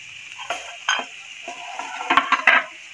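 Shredded boiled chicken and cabbage frying together in a pan, a soft sizzle under scattered clinks and scrapes of stirring, with a few sharper knocks near the end.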